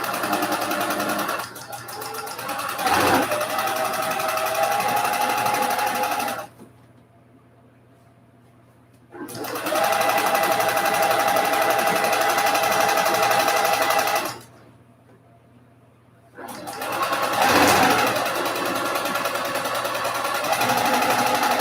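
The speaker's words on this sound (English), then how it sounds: "I'm going to sew it like I did the other ones" A sewing machine stitches a quilt block in three long, steady runs separated by short pauses, with a high, even motor whir close by and no talking.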